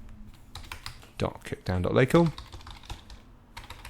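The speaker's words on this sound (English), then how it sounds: "I'll just type in my server name" Keys clack on a computer keyboard as a server name is typed, brief bursts of close keystrokes mixed in with someone talking throughout.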